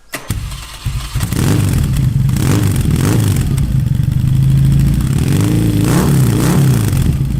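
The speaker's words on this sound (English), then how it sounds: "Zard exhaust sounds so good" A custom Triumph Bonneville motorcycle fitted with a Zard exhaust fires up after a brief clatter, then settles into a loud, close, throaty idle with a couple of blips of the throttle near the end.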